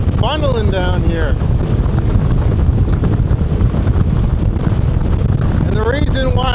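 Strong wind buffets the microphone in a steady loud roar while waves churn on Georgian Bay; a voice whoops briefly near the start and again near the end.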